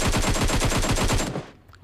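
Rapid automatic gunfire in a battle royale shooter game, a fast rhythmic burst of about a dozen close, loud shots that stops abruptly, leaving near silence.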